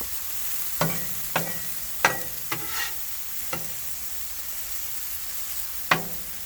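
Butter melting on a hot Blackstone griddle beside cooking asparagus and mushrooms, a steady sizzle punctuated by several sharp clicks and scraping taps at irregular intervals.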